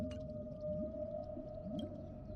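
Whale vocalizations in a song: a long, steady tone with slow rising and falling moans beneath it and a few faint clicks, quiet and distant.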